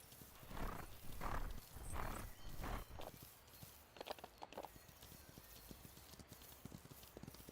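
Horse hooves clip-clop and a horse whinnies in a horse ranch video game, a few heavy snorting or whinnying bursts first, then a quicker run of lighter hoofbeats.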